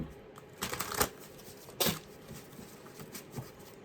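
Tarot cards are shuffled and pulled by hand, giving close, quiet bursts of riffling and flicking with short pauses between them.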